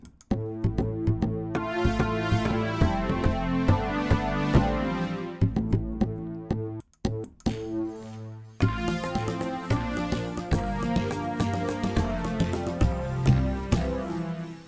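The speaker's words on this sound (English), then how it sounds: "So here's conga." Conga sounds from a Percussa synthesizer, two layered sounds with no effects, play as a dense, continuous melodic pattern of tuned hits with rich overtones and a brief pause partway through, loud and alone.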